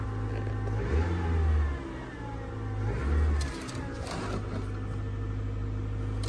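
A Mercedes car engine idles and is revved twice, each rev rising and falling over roughly a second, heard close with a low steady rumble between, no talking.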